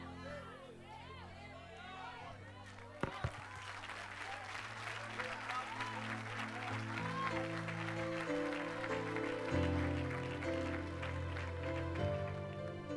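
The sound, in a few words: congregation applauding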